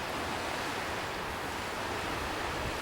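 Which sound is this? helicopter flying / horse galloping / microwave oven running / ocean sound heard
ocean sound heard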